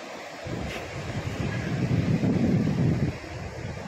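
Rough sea surf rolls onto a seashore under gusty wind buffeting the microphone, a steady close broadband wash of waves swelling louder midway and easing near the end.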